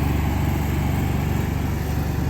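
A Cummins Onan QG 7000 RV generator runs on concrete with a steady, close, even engine hum and a low rhythmic throb, unbroken throughout and with no talking.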